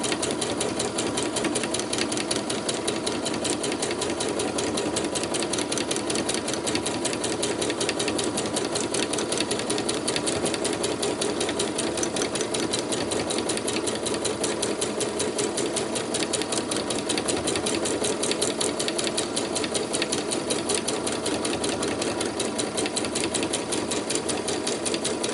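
A sewing machine stitching free motion embroidery on scrap fabric runs continuously with a fast, even mechanical chatter, steady and fairly loud throughout, with no talking.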